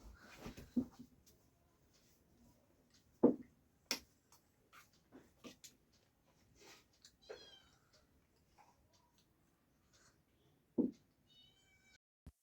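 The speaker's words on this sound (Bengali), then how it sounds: "ও সকালে দুধ খেয়েছে পুষি, তারপরে আবার খাবে বলে ইয়ে করছে, দুধ আর রুটি দিয়ে দিই" A pet cat meows repeatedly for milk and bread, short separate cries spaced irregularly and fairly close, with a few faint light ticking sounds in an otherwise quiet indoor room.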